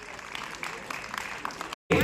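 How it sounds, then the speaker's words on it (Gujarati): An audience claps at a municipal corporation's urban development celebration, a dense, steady burst of applause that cuts off sharply near the end before resuming. "એકવાર જોરદાર તાળી"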